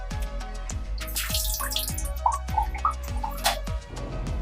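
Water from a travel shower runs and splashes in a parked private jet's bathroom, with repeated drips and sloshing spatters over a steady close-up flow.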